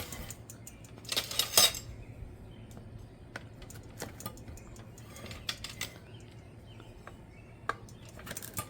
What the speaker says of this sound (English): We're getting a series of spoons because we're going to pull it all the way off the rim.